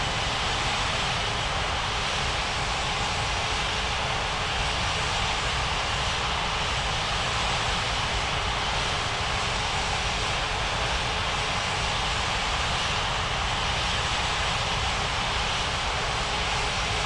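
Qatar Airways Boeing 777-300ER jet engines taxiing, a steady broadband roar with a low rumble that stays constant and fairly loud throughout, with no voices.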